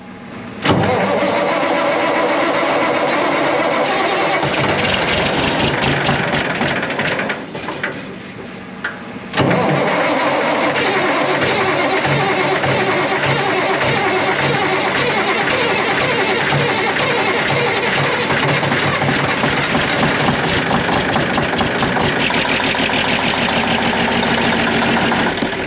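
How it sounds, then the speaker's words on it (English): An old Cummins Big Cam diesel engine cranks and starts, then settles into a loud, steady, rough clattering idle close by, with a brief dip in level partway through. "you guys ready to hear what a big cam, a really old big cam sounds like and looks like?"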